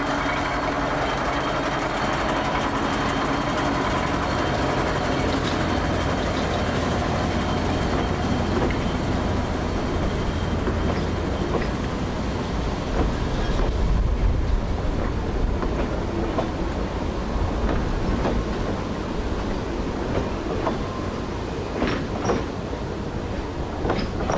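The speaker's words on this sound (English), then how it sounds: "here's some footage of Barton Hall departing Sittingbourne Viaduct station back in 2008." The steam locomotive Barton Hall pulls away from Sittingbourne Viaduct station up a steep rising gradient, a continuous heavy rumble and chuffing that holds steady throughout with faint clanks.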